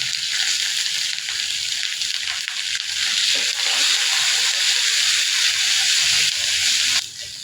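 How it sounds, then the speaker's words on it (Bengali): Onion paste masala frying in oil, a loud broad sizzling hiss close by that holds steady before easing off at the end. "এখন তেলের উপরে আমার এই পেঁয়াজ বাটা মশলাটা একদম যে ভাজা ভাজা হয়ে গেছে।"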